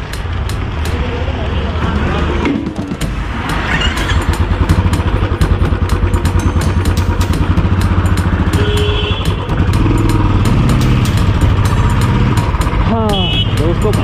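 A Royal Enfield Classic 350 BS6 motorcycle in Stealth Black runs steadily nearby with a low, even thump throughout. Voices talk over it, and brief clicks and knocks are heard.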